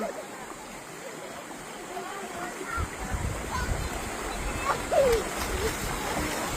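Children diving underwater in a swimming pool stir up steady splashing and churning water, while nearby voices and laughter carry over the wash.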